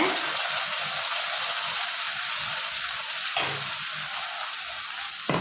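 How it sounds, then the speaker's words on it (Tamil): Onion and garlic sauté in a pan for a tamarind-based potato and drumstick kuzhambu, a loud, steady hiss of frying broken by a few short stirring scrapes, with no clear talk. "இப்போ வெங்காயம் வந்து நல்லா வதக்கி விட்டுக்கோங்க"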